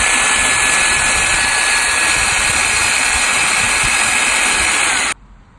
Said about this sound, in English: we're going to drill some holes.